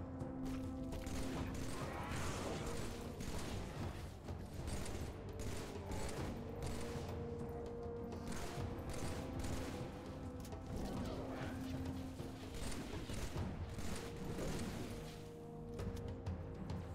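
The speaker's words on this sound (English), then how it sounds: "assault rifles." Sustained bursts of assault rifle fire in the video game Halo 3, dense and loud throughout with crashing impacts and battle noise layered over continuous game sound.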